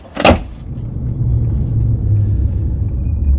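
Car interior during a drive to a scrap recycling collection point, a sharp thump at the start and then a steady low road and engine rumble, close and continuous with no talk.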